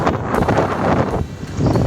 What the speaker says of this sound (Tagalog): napakalakas naman talaga ng hangin